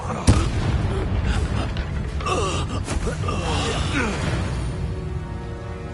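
Confringo spell explosion in Hogwarts Legacy: a sharp nearby boom followed by a dense rumbling, crackling wash of combat noise with gasping voices mixed in.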